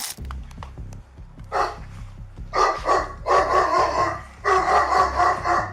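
A large dog confined in a cage barks repeatedly and loudly nearby in an apartment, with bursts of barking growing denser toward the end over a steady low background.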